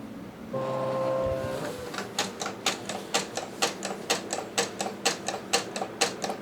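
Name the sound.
vinyl cutting machine setting blade depth and speed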